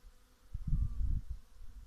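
A low buzzing hum of honeybees flying out of a hive on a February day, steady and fairly faint, swelling slightly in the middle with no voices.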